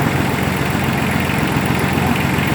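The engine of a hydraulic well drilling machine runs its pump system at a steady, loud, close idle with an even low throb and no break over the whole short stretch.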